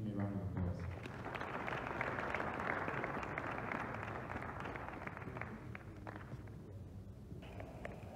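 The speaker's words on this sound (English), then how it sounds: "give him a round of applause" Sustained applause from an audience at a student innovation challenge event, steady and dense throughout with murmuring voices mixed in.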